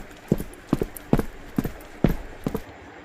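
Hooves clip-clop in a steady, fairly quick rhythm of sharp, separate knocks, standing in for fast footsteps in a haunted-forest horror tale, moderately close against a faint background hiss.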